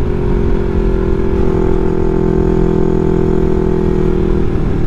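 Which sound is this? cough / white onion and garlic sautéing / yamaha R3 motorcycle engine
yamaha R3 motorcycle engine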